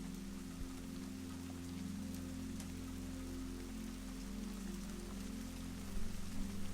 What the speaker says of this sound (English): And now the rain settles in for the afternoon